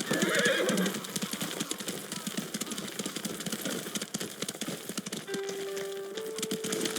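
A horse whinnies loudly near the start in the video game Ghost of Tsushima, followed by steady hoof clip-clops and a faint low hum underneath.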